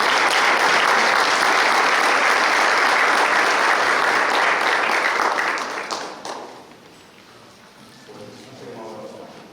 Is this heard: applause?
yes